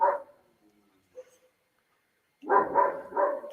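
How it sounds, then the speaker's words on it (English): Several dogs bark in the background, a short burst at the start, a faint yelp midway, then a louder run of three barks near the end, with no talk over them. "It's so many dogs are barking."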